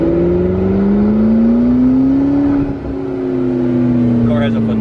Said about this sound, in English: You got turbos spinning up, you got the nice rumbly exhaust.